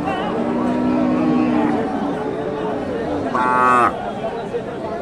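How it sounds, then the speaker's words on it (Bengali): At a cattle market in Bogura, Bangladesh, with a bull calf and a native cow nearby, a cow gives one clear, fairly close moo near the end, over steady crowd chatter and someone talking. "এই যে বাচ্চাটা ষাঁড় বাচ্চা আর দেশি গাভী"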